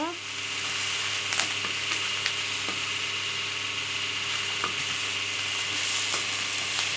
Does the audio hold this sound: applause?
no